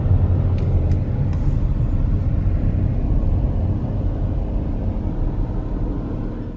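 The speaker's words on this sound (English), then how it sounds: "I'm pretty sure it's an Austin Healey 1000 or 3000" An Austin Healey 1000 or 3000 sports car driving past at Pescadero, a loud, steady low engine rumble close by throughout, with no talking.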